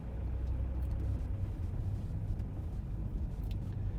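A car drives up a road in Edinburgh near the palace, its engine and tyre rumble low and steady from inside the vehicle, with no voices.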